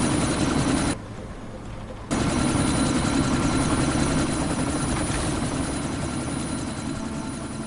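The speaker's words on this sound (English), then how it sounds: "That chopper's about to take off!" In the video game Deus Ex: Mankind Divided, a helicopter about to take off gives a loud, steady whirring engine and rotor drone. The sound briefly drops out for about a second, then resumes at full strength.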